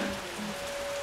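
Steady rain patters on a surface in an even, continuous hiss with a faint sustained tone running underneath, no pauses.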